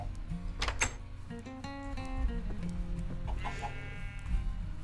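Chickens in Minecraft cluck repeatedly in short bursts, close and clear, amid other soft game noises.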